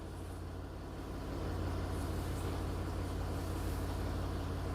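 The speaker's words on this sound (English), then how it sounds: "I hope you can hear me over the car running." A Jaguar XF-S car engine running steadily nearby, a continuous low rumble that swells slightly after the first second and holds level, with no talking over it.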